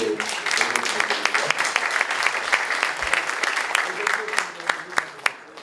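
Applause from a seated audience at a church thanksgiving service, a dense steady patter of many hands with a few sharper individual claps standing out toward the end.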